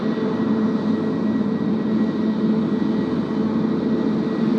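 A Japan Airlines Airbus A350-1000 at Tokyo Haneda, heard as a loud, constant broadband engine roar that stays close and unbroken for the whole span, with no talking.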